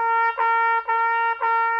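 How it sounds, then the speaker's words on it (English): A trumpet plays one repeated note, tongued into separate attacks. There are four articulations at an even pace, close and clear, with no talking. "So tonguing through the instrument would sound like this."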